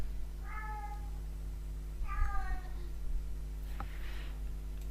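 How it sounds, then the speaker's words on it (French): A house cat meows twice indoors, two short clear calls about one and a half seconds apart, over a steady electrical hum with a faint click afterward. "Alors désolé si vous entendez mon chat miauler."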